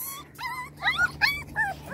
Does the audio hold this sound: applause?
no